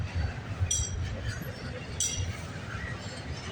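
A train passes a trackside spot at Islington Avenue early on a Saturday morning, giving a steady, fairly loud low rumble with a few metallic clinks and rattles over the top.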